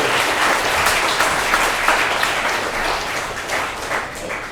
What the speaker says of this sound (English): Give the two girls a big round of applause.